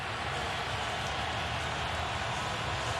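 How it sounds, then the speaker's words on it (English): Heavy rain pours down on a football stadium during an NFL playoff game, Steelers at Bengals, a dense, steady wash of hiss with a low rumble underneath and no gaps through the whole stretch. "the rain again intensifies"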